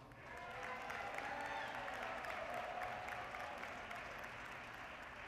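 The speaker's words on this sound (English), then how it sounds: "Round of applause." Sustained audience applause fills a convention hall during introductions of speakers at an NAACP national convention, a steady dense wash of many hands clapping at moderate distance with faint crowd murmur.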